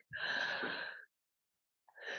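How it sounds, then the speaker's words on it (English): A single sharp sneeze, close and fairly loud, followed by a short silence and then the start of another breathy burst. "I'm gonna sneeze."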